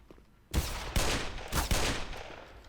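Enemies open fire in the game Black Mesa, close bursts of gunfire striking in quick succession: four heavy volleys over a few seconds with no talk.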